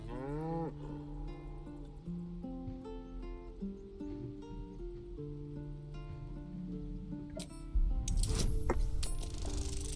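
An ox lowing in the video game Baldur's Gate 3, long drawn-out moos near and steady, with a sudden louder rattling burst near the end.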